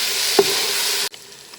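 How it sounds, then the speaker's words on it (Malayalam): An egg biryani mixture with lemon juice and yogurt stirred in a pot gives a steady close hiss with one small knock, then cuts off abruptly after about a second, leaving faint quiet noise. "ഇനി ഇത് നന്നായിട്ടൊന്ന് മിക്സ് ചെയ്യാം"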